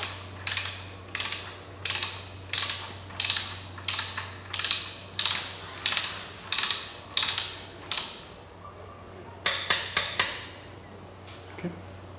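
A torque wrench ratchets bolts down during an NV5600 transmission rebuild, giving about a dozen evenly spaced close clicking bursts, then a quick cluster of clicks under a low steady hum.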